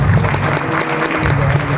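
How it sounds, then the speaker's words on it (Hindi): At a mushaira poetry gathering, the audience breaks into loud, close applause, a continuous thick burst of many hands clapping without letup through the short moment. "उस जीत के लिए एक बार जोरदार तालियां।"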